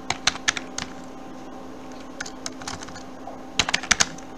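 Keys on a computer keyboard tapped in short quick bursts, a few clustered strokes at the start and a denser flurry near the end, close by in a quiet room with a steady low hum underneath.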